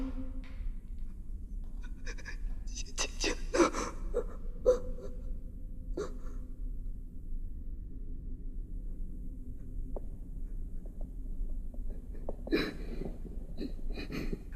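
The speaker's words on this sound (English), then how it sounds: "the only thing you can hear are the sounds of the creature and the woman's cries and breathing" A dark horror movie scene carries sparse creature noises and a woman's gasps, cries and heavy breathing, isolated bursts separated by near silence over a low rumble.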